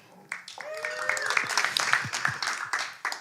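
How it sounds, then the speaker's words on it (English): An audience at an interview event for a drum and bass label gives a round of applause: scattered, uneven claps under overlapping voices and a few raised calls, fairly close and lively. "Can we get a round of applause for him too?"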